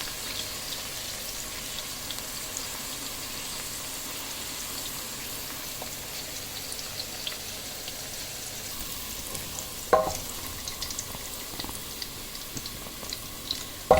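Onions frying in hot oil for a mixed vegetable dish with cabbage give a faint, steady sizzle, with a couple of brief clinks and a louder knock near the end.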